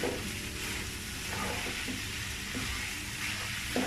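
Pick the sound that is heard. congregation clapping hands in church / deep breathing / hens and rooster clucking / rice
rice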